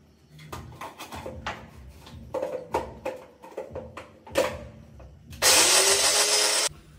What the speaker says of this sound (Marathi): हे फक्त मिक्सरमध्ये एक नॉर्मल असं फिरून घ्यायचं मिरच्यात.